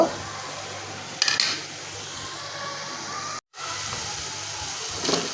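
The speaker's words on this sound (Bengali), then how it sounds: "হলুদ মরিচ আর লবণ, তো সব কিছু দিয়ে আমি ভালো করে এটা কষামো" A turmeric, chili and salt masala hisses and sizzles steadily in a pan, with a few clinks of a utensil stirring against it and a brief cut to silence midway.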